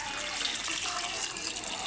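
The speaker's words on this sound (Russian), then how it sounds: "И сейчас еще немножко тоже добавлю, но уже из чайника." Water is poured from a kettle into a multicooker holding pasta, making a steady, close hiss of running liquid that lasts the whole moment with no talking.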